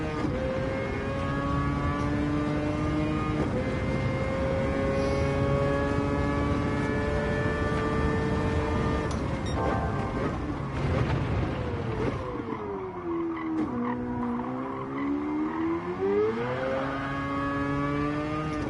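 A Mazda RX-Vision concept car in the racing game Gran Turismo 7 drives at Red Bull Ring, its rotary engine wailing with a loud, smooth, high-pitched tone that climbs through gears, drops on shifts and dips then swells again.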